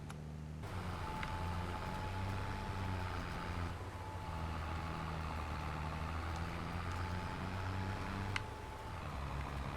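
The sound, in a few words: tractor planting in Farming Simulator 23 video game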